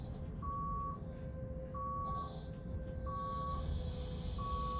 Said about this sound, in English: which is making the beeping sound